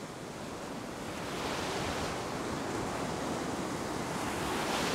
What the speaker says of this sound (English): I'm just going to wait for a minute so that these waves can wash back a little bit